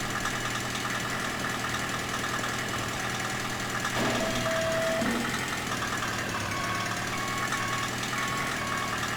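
Snow plow engine running steadily under load as the blade pushes a heavy mass of snow, a continuous mid-pitched drone holding even loudness throughout, with a brief higher whine partway through.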